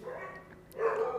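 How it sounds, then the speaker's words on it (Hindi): Dogs barking outside during a mathematics lesson recording, heard faintly in the distance as a couple of muffled, indistinct barks with no talk over them. "ये कुत्ते बहुत भौंक रहे यार"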